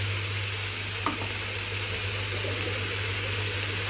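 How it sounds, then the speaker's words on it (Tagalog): Shredded cabbage and carrots for spring rolls sauté in a pan with a steady sizzle, joined once by a small stirring clink and a low hum underneath. "Tapos gigisa ko na yung repolyo at carrots."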